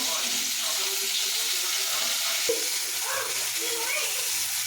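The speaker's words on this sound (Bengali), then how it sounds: "তারপর মাছগুলো ভালো করে ভেজে নেব।" Shrimp fry in mustard oil with salt and turmeric, giving a continuous close sizzle with occasional stirring clinks and scrapes in the pan.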